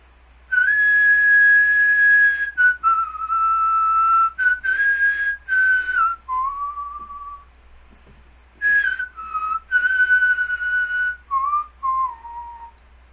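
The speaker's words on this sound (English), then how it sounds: "you'd have to have a lot of patience to hear me whistle that damn thing" A man whistles a tune alone: clear sustained melodic notes in phrases, a pause around the middle, then more whistled phrases, close and fairly loud.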